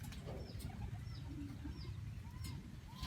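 Soft pigeon coos repeat every half second or so over a low, rumbling background, fairly quiet and close.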